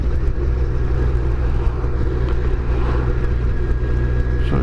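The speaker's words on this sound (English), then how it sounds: "Yeah, this is the engine." A car engine hums at a steady idle or cruise, a continuous low rumble close by with no clear revving.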